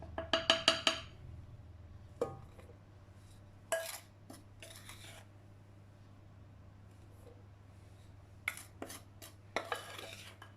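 Dry baking ingredients going into a mixing bowl: a quick run of metallic clinks and scrapes from a utensil against the bowl, then sporadic taps and clatters with quiet gaps and a low steady hum behind.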